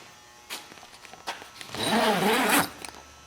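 A zipper on the soft door window of a 2003 Polaris Ranger 6x6 is pulled in one loud, close, rasping sweep lasting under a second, preceded by a few faint rustles and clicks.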